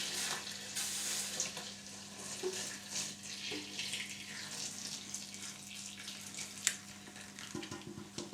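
Water pours into a pan of foaming soy milk nearing the boil while making tofu, with a steady splashing hiss and some sizzling crackle, continuing for several seconds without any talking.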